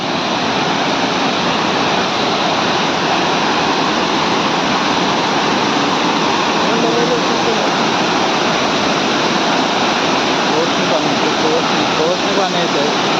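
A waterfall near Virar pours in a steady, dense broadband roar that stays loud and constant throughout, with no pauses or breaks.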